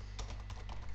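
Rapid keystrokes on a computer keyboard while entering Java code, a steady run of close, crisp taps with no voices over them.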